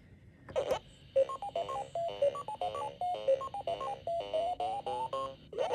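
Bright electronic bleeps play a quick, bouncy chiptune melody of short tones, the classic sound of a Pac-Man arcade game starting up, with a brief blip at the start.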